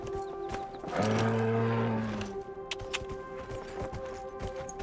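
A horse galloping and sprinting in the video game Dragon Age: Inquisition, steady rhythmic hoofbeats over an ambient music bed, with a brief loud tonal swell near the start.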